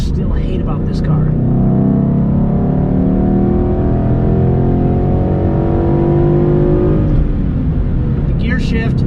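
A 2012 Mustang GT accelerates hard in third gear, its engine note rising loud and close as a continuous roar climbs in pitch, with brief voices heard at the start and end.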